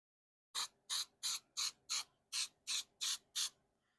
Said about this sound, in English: So we're going to spray some of this in there.